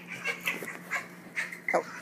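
A dog whimpers in short, high, nasal cries, several brief whines spaced across a quiet room.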